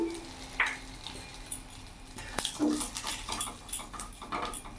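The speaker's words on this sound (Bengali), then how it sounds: "ওই তেলের মধ্যেই এখানে কালো জিরে ফোড়নে দিয়ে দিলাম" Nigella seeds are tempered in hot oil already in the pan for a Bengali ridge gourd and prawn dish, making a faint, soft crackle. A few light clinks of utensils sound close by.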